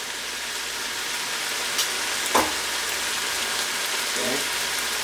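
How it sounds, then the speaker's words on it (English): Garlic frying in a pan for vegan beef and broccoli gives a steady, fairly quiet hiss and sizzle, with a couple of brief clinks of a utensil partway through. "I'm gonna add my garlic."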